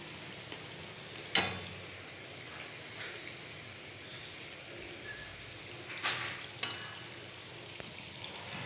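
Sweets made from dough mixed with milk frying in a pan, a soft steady sizzle with occasional scraping and stirring clicks of a utensil, close and quiet, no talking.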